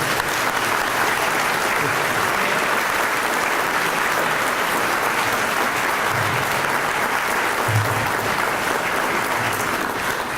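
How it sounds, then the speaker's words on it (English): A crowd at a 2018 Dayton Fire Department graduation ceremony gives the graduates a loud, sustained round of applause, dense and steady clapping with a few scattered low thumps throughout. "Please, another round of applause for these people."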